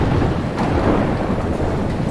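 Steady heavy rain from a video game storm roars with low rumbling undertones, a continuous dense wash of storm noise with no voices.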